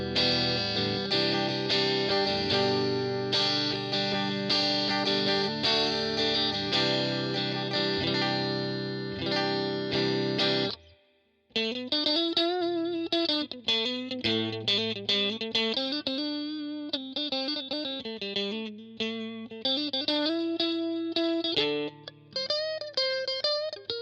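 Fender Stratocaster Player HSS Plus Top electric guitar on the neck and middle pickups together, heavily effected with chorus and distortion: sustained strummed chords for about ten seconds, a brief gap, then a busier riff of picked notes and bends, loud and close.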